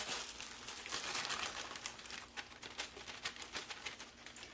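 A bag of dry cake mix being cut open and handled, producing steady close crinkling and rustling of the packaging throughout, with no talking.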